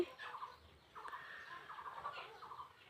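Soft clucking and low gobbling calls from several native chickens, repeated in short bursts, fairly faint and close inside a coop.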